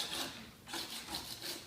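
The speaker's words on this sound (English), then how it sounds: "he wants to scrape as much as he can off" A scraper working old adhesive off a floor ahead of drum sanding gives a steady, close rasping scrape in two long strokes, with a brief lull between them.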